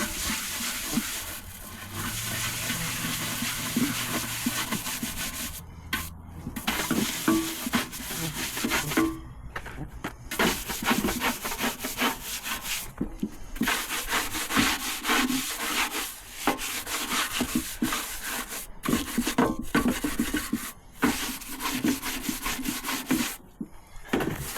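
A wire brush scrubs paint off a part of a 1952 Chevy truck, a steady, rasping scrape in repeated strokes with short pauses, close and fairly loud.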